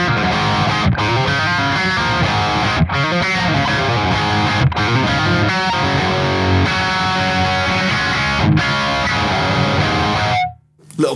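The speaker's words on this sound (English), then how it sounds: "Little pick scraping there, I like that." An electric guitar plays heavily distorted rock riffs through a Kemper amp running a 6505 crunch profile, with pick scrapes along the strings, loud and continuous before cutting off near the end.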